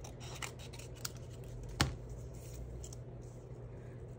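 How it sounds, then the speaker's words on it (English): Scissors cut a piece of material for a desk craft project, giving a few faint snips and one sharper cut close by in a quiet room. "And I'll cut another piece"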